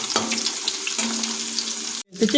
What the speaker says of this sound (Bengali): ভাজা হয়ে আসছে তাই আমরা খুঁজে সুন্দরভাবে গাজরগুলো নেড়ে নেবো